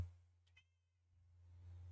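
A house cat gives a single short, quiet meow in an otherwise still room, with a low steady hum underneath.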